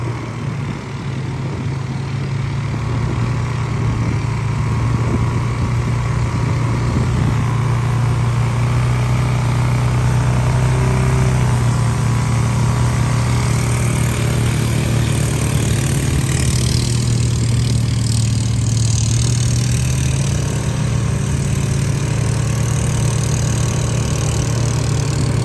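A vehicle engine runs steadily while driving up to a pond being hydroseeded, giving a continuous mid-pitched drone that holds at an even level throughout.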